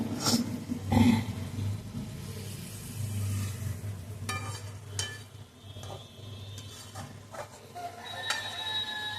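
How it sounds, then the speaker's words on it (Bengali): Fish goes into a pan of frying spiced masala, with clattering and scraping of utensils over a soft sizzle, then sharp knocks and rustles, and no voices. "মশলাটা কষানোর পরে মাছগুলো দিয়ে দেওয়া হলো"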